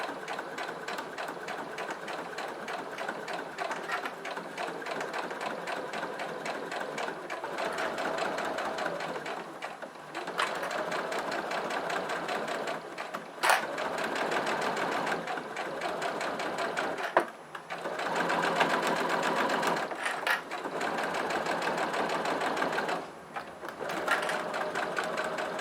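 A sewing machine stitches along the piping of a round children's pencil case, running in long steady bursts with brief pauses and stops, close and fairly loud, with no talking.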